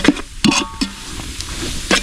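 Spoon stirring garam masala and cardamom through Kasaragod-style dum biryani in a pot, a few scraping strokes with faint sizzle between them, close and fairly quiet.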